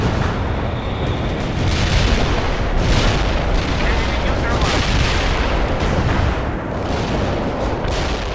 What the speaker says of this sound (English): Artillery strike is inbound. Avoid the strike area.